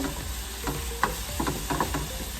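Green onions and garlic frying in sesame oil in a pan, a steady low sizzle with a few soft stirring clicks and scrapes, quiet and close with no voices.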